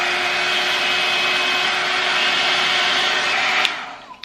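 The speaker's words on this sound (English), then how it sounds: "we are going to move on to the exciting part, which is blow drying it" A hair dryer blow-drying hair blows with a steady whirring roar and a faint motor whine, then cuts off abruptly near the end.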